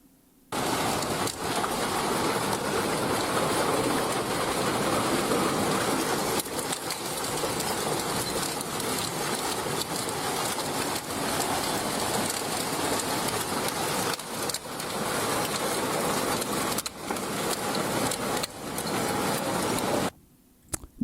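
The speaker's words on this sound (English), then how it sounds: "A massive hailstorm, high winds." Hail pounds down in a massive storm with high winds in Lebanon County, Pennsylvania, a loud, continuous dense clatter and roar lasting about twenty seconds with brief dips, ending abruptly.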